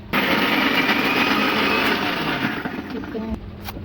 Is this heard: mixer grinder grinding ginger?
yes